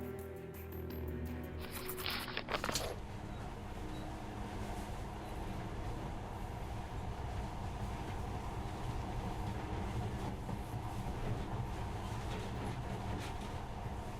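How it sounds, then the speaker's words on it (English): A monorail train from the video game Metro: Last Light Redux runs with a continuous low rumble and rattle for the whole stretch, with a brief clattering burst near the start. "In the past, trains were ordinary things. But now, this monorail seems magic, doesn't it?"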